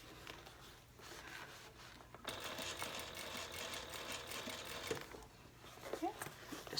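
A sewing machine stitches the bottom band of a handbag, a steady whirring run that starts after a quiet pause, stops briefly, then resumes near and moderately loud.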